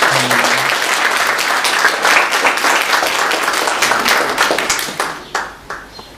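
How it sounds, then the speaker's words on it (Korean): Church congregation at a Sunday service applauds after an infant baptism: full, even clapping that fades into a few final scattered claps. "다시 한번 박수 하겠습니다."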